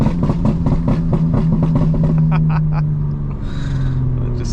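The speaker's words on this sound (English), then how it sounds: "it sounds like the car enjoys it" A tuned 900-horsepower 2025 BMW M4 engine and exhaust drone loudly and steadily up close, then the note shifts and stutters as the revs change.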